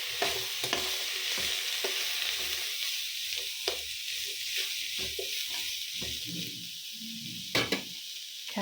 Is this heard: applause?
no